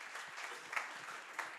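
An audience at a youth sponsorship ceremony applauding a sponsor, producing a soft, even wash of clapping that sounds distant and faint, with no talking.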